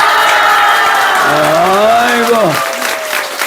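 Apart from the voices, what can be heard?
audience applause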